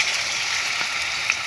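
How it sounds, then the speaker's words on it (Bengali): Malabar spinach leaf fritters frying in hot oil give a steady, close sizzle that runs unbroken throughout, with a faint pop near the end and no voices. "এই প্রথমবার বন্ধুরা আমি পুঁই শাকের পাতার চপ ভাজছি।"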